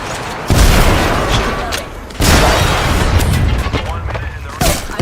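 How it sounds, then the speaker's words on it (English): Grenade blast in a shooter video game: a heavy boom hits, a second deep burst follows about two seconds later, and a third short thump comes near the end, all set within a loud, busy mix of combat noise. "Grenade"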